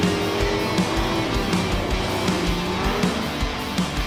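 Race cars in a racing video game, a dense pack of engines droning and revving together with repeated tire squeals and skids, loud and continuous with no commentary over it.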